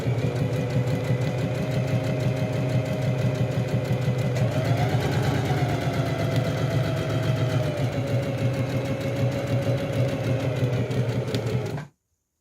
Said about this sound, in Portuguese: Posicione o tecido na máquina, abaixe a sapatilha e faça 2 costuras paralelas.